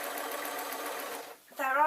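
A sewing machine stitches satin fabric with a steady, close mechanical whir that stops briefly, then a person starts talking.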